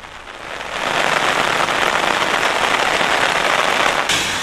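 Heavy, continuous rain falling since early morning, a dense loud hiss of drops hitting surfaces that swells within the first second and holds steady without a break.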